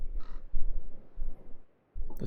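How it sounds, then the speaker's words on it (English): Birds call in Fate/Grand Order, a game: a couple of harsh croaking caws over a low rumbling wind-like background, loud and close, no voices. "Those birds are back."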